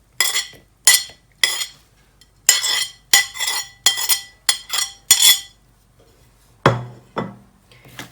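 A spoon scraping and clinking in a pan while chicken and coriander with green chillies are stirred together, heard as a series of sharp metallic strokes in uneven bursts, close and fairly loud, with quiet pauses between them.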